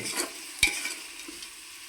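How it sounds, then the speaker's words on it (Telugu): Ginger garlic paste fries with tomatoes in a pan under a soft, steady sizzle, with one sharp spoon clank against the pan and a few light stirring scrapes, and no voices. "అల్లం వెల్లుల్లి పేస్ట్ బాగా యాగనివ్వాలి"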